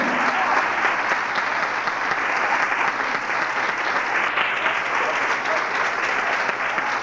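An audience claps loudly and continuously, a dense, even wash of applause from a large crowd with no pauses.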